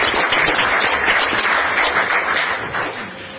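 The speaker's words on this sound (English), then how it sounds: "So round of applause for Dickinson, please." City council chamber applause for Dickinson Fine Arts Academy: a sustained wash of clapping from a sizable gathering, fairly loud and even, gradually tapering toward the end.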